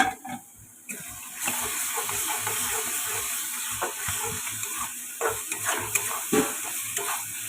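Bami fish pieces are stirred with salt, turmeric and chili powder in a pan, giving close wet scraping and squelching strokes over a soft sizzle, irregular and moderately loud, with no voices.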